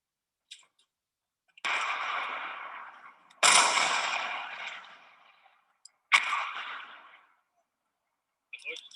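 Gunshots ring out at a military bootcamp shooting range: three or four loud, sharp reports spaced a second or two apart, each trailing off in a long outdoor echo before the next.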